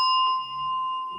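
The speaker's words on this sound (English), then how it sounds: "I'm going to gong" A gong struck during a Sunday church service rings out with a bright, sustained metallic tone and clear overtones, holding steady with little decay.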